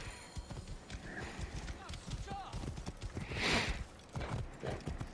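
Rapid hoofbeats clatter in a galloping rhythm with a horse's whinny in the middle during a race in the video game Assassin's Creed Origins, while a voice talks over the action.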